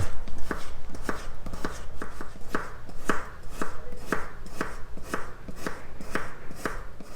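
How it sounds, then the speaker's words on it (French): Knife thinly slicing potatoes on a cutting board for a Spanish tortilla, a steady run of crisp, evenly spaced chops about three per second, close and clear with no talk. "on va couper les pommes de terre vraiment fin en réalité"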